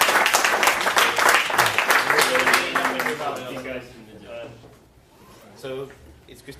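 An audience at a FOSDEM 2017 conference session applauds a talk introduction, the dense clapping loud for about three seconds before tapering off into scattered claps and quiet room noise.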